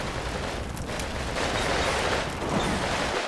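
Submachine gunfire from the Combat Mission: Stalingrad game, Russian SMGs firing at counter-attacking German engineers, a dense continuous rattle of bursts mixed with booming battle noise and no break.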